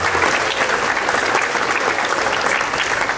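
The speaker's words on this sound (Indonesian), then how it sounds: "Tepuk tangan buat teman-teman." A school audience at a Monday flag ceremony breaks into sustained applause for the students, dense, steady clapping filling the whole stretch at close range.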